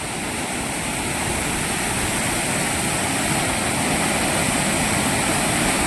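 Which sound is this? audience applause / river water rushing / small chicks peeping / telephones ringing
river water rushing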